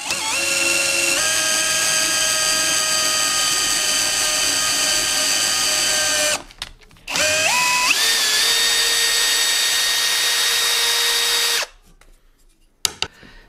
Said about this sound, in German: wir nehmen jetzt einfach dieses Holz, bohren dann Gewinde rein